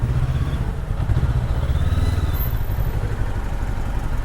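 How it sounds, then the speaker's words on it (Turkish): Steady low engine rumble and exhaust putter from a 2025 Honda CBR500R sport motorcycle on the move, with rushing wind noise over it and no voices. "Egzozu güzel ama sesi güzel yani böyle patara patara patara patara gidiyor"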